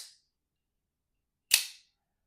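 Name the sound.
Microtech Troodon OTF knife blade retracting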